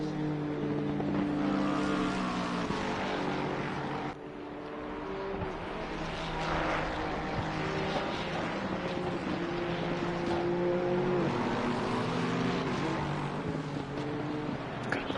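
GT2 BMW race cars running at Silverstone in a racing simulator, a continuous layered engine drone with shifting pitches as several cars circulate close together, loud and steady throughout.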